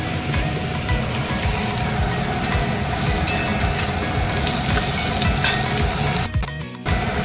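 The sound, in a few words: onions frying in a pan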